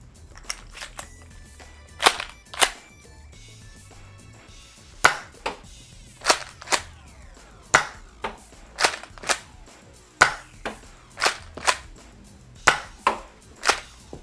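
A Nerf Remington 870 pump-action shotgun fires Dart Zone Max Ruby darts: a steady series of sharp, close, loud snapping shots, roughly one every half second to second, with quiet gaps between them.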